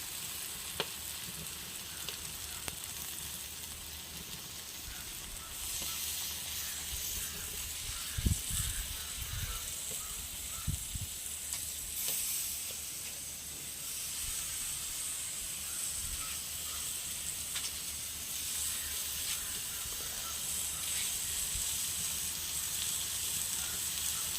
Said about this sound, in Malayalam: ഇവിടെ ഈ കത്തിരിക്ക ഫ്രൈ ചെയ്യുന്നത്